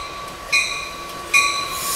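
An AEM-7 electric locomotive working a push-pull train on the Keystone Line on a rainy night, with a steady rail roar and two sharp high wheel squeals in quick succession, loud and fairly near.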